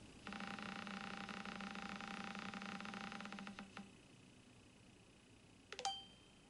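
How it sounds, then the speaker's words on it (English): A prize wheel spins with rapid ticks over a steady electronic tone. The ticks slow and stop after about four seconds, and a short bright chime follows moments later. "So here I have my wheel, and I'm starting with spin number 1."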